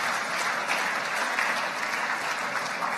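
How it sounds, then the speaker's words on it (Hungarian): A large audience at the Hungarian Nature Photographer of the Year 2015 award ceremony gives the winning photographers a big, loud, sustained round of applause, with dense even clapping throughout. "Kérek szépen egy nagy tapsot"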